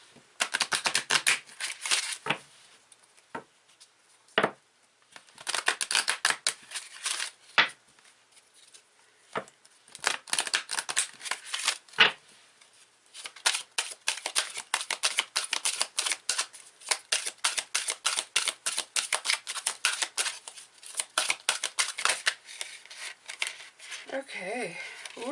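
A deck of tarot cards being shuffled by hand: fast riffling and flicking of card stock in dense bursts, with sharper slaps and taps in between. The sound is close and steady, and no one speaks over it.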